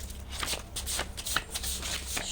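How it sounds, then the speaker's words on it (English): Tarot cards are shuffled close up, a rapid series of crisp riffling and slapping sounds in quick bursts. "Make sure these cards shuffled."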